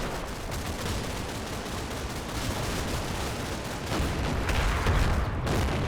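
Heavy 7.2-inch artillery shells fire and land during a Normandy battle in the Combat Mission video game, a dense, rolling rumble of booms and blasts that swells louder toward the end.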